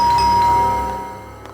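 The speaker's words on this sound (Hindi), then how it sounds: "इस वक्त मेरे घर की घंटी बजा रहे हैं" A doorbell chimes at a home in a tense TV crime-drama scene, giving a clear bright ding-dong tone that rings on and slowly fades, with no talking over it.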